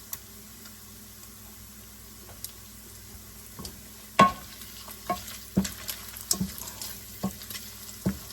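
Bacon frying in a pan for Creole sautéed cabbage, a soft continuous sizzle broken by scattered sharp clicks and scrapes of a utensil against the pan, close by.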